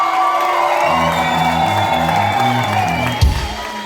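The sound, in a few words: audience applause for band member Jaanus at a live album launch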